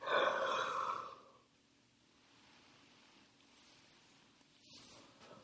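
A person gives a single long, breathy yawn at the start, close and soft, which then fades into near silence with faint breathing and small rustles.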